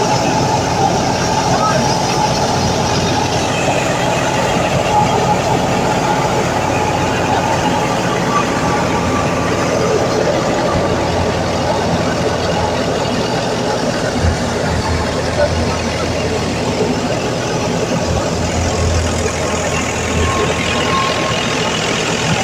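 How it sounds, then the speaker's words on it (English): Tractor powering a wheat thresher machine at full power in a farm field, a loud continuous engine roar and mechanical drone throughout, with a voice talking over it. "the tractor provides the driving force, while the thresher performs the complex job of separating, cleaning, and collecting wheat grains efficiently"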